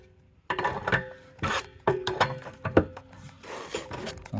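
A wrench working on a CPVC 3/4-inch FIP transition fitting at a water heater gives a series of close scraping, clicking and rubbing bursts of metal against the fitting, with short pauses between strokes.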